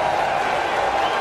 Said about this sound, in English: listen to the reception of the crowd for Anastasia